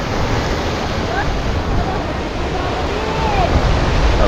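Sea surf washing onto the shore beside a coastal road on the way from Rameshwaram to Kanyakumari in Tamil Nadu, just after sunset, a steady broadband roar of waves with wind buffeting the microphone throughout.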